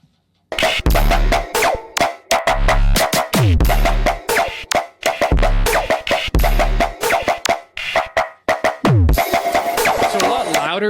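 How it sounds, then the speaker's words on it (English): Heavily clipped, saturated trap bass demo track, loud and gritty with punchy repeating booming bass hits and rhythmic pauses, played alone. "this like heavy clipping can actually sound super dope"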